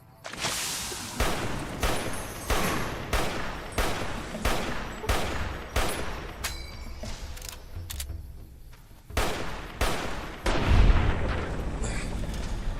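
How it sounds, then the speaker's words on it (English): Battle rifle gunfire in a video game fight against a cazador nest, heavy sharp shots in fast irregular bursts with brief pauses and a deeper boom near the end, loud and close. "Battle rifle giving me that slightly higher rate of fire that I need."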